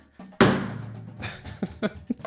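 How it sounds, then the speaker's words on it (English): One sharp, dry crack of a marching bass drum rim shot with little tone, followed by a few softer, muffled taps. "a bass 5 rim shot, which will sound like this."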